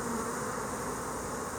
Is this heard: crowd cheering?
no